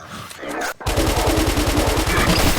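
Rapid automatic gunfire from a FNAF video game, a loud steady burst of evenly spaced shots running for about two seconds after a brief gap, with game sounds just before.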